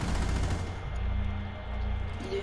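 Rapid gunfire crackles through a Rainbow Six Siege match, dense bursts of shots rattling near and loud over a low rumble of game ambience for the whole stretch.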